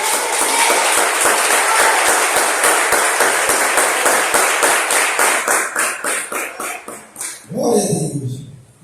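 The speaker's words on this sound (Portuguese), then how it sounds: "Mas aplauda o Senhor com alegria." A church congregation claps rhythmically in unison, the sharp repeated beats slowing and thinning toward the end before a voice takes over.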